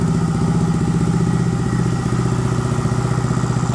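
A Honda Monkey motorcycle engine idles steadily up close, a loud continuous putter with a fast, even pulse and slight clatter, with no talk over it.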